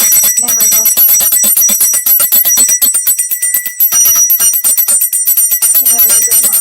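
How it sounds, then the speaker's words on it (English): Bells rung in a candle-lighting remembrance for women who have survived domestic violence, a dense, continuous run of bright metallic strikes carrying on loudly for several seconds with no talking. "I light a candle and I ring the bells"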